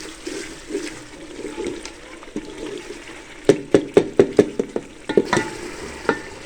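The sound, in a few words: stirring and frying tomatoes in pot with ladle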